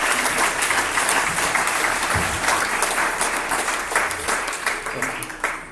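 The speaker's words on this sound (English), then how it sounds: "round of applause, please" A crowd breaks into loud, sustained applause, many hands clapping together, gradually thinning toward the end.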